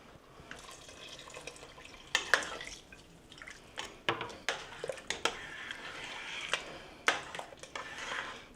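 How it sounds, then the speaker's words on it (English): Water is poured into a pot of simmering black bean chili, heard as faint, close splashes and drips in irregular bursts over a quiet kitchen background. "I'm going to go ahead and add some more water to it"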